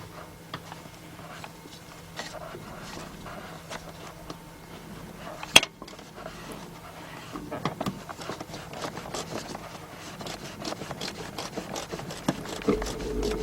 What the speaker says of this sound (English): Alright, now I'm going to get my little stubby ratchet.